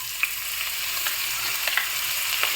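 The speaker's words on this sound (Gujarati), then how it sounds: "તો લીલા કાંદા છે એને સુધારી નાખ્યા છે તે હું વઘારમાં નાખી દઈશ." Chopped green onions dropped into hot oil tempering for a mung bean and rice dish, giving a steady close sizzle with light crackles and stirring taps throughout.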